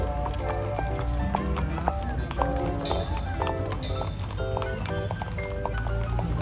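Horse hooves clip-clop on pavement in a steady, repeated rhythm at close range, with people talking over it and faint background bustle.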